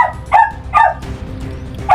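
A pet dog gives two sharp barks close by, a pause, then a third bark starting at the very end, with quieter background noise between.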